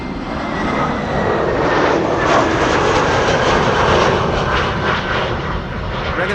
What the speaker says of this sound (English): Iberia Express flight 1793 is arriving from Madrid.